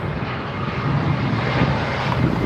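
A British Airways Airbus A319 arriving on runway 27R at London Heathrow gives a steady, broad engine roar that holds loud and constant with no voices over it.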